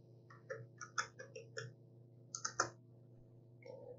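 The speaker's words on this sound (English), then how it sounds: "now we're going to type in ipconfig to see the IP address" Someone types ipconfig on a computer keyboard, producing a quick run of crisp, close key clicks in two short bursts over a low steady hum.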